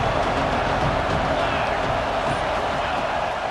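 Stadium crowd noise in the football video game EA Sports College Football 26, a dense, loud, continuous roar of massed voices with a broad wash of cheering and murmur, steady from start to finish.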